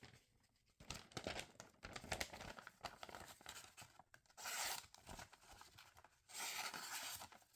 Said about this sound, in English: So they both can cut the paper very easily.